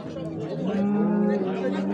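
A Montbéliarde calf at a livestock market in Göksun, Kahramanmaraş, lows in one drawn-out, fairly loud moo with rising and falling pitch, over a murmur of market chatter.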